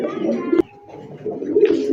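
A female Afsan Giggle pigeon coos in soft, low, throaty bursts, broken by a brief sharp click partway through, fairly close.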